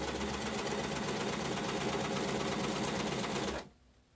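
A sewing machine stitches around the edges of a fabric face mask in one steady, fast, buzzing run, close and clear, then stops abruptly near the end.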